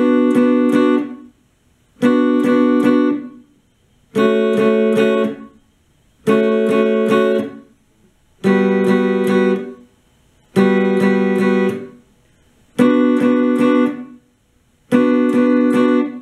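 A repeated guitar riff from the verse of a song: sustained, bright chords played in eight even bursts with short pauses between, loud and close with no talking.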